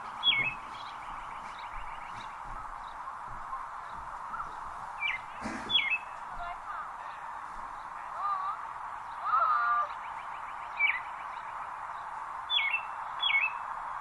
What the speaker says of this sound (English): So we asked you to try and collect bird calls as a preparation for today, for Ken's presentation on bird language.